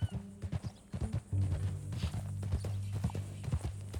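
Horse hooves clip-clop in Red Dead Redemption 2, coming as a run of close, uneven hoofbeats. A low sustained tone and a brief neigh-like sound come in partway through.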